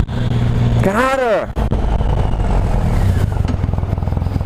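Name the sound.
Triumph Rocket 3 motorcycle engine on a test ride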